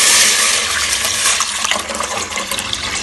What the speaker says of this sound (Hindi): जूस इस पतीली में डालते हैं।